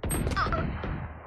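Gunfire in the tactical shooter Valorant: a short burst of sharp broadband shots, loud and close, over continuous game noise.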